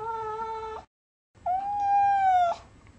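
An indignant cat lets out two long, loud, sustained yowling meows, the first held steady, then a short silence before a second drawn-out wavering wail that ends abruptly.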